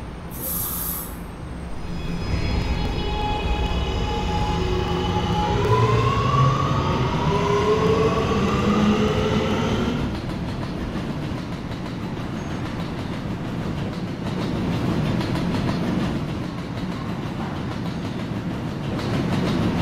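An R211A subway train in Roblox runs on the R line, its rising motor whine sweeping upward under a steady rumble, then settling into a constant rolling drone with faint clicks of the track.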